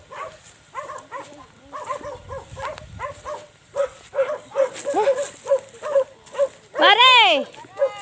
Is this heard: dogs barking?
yes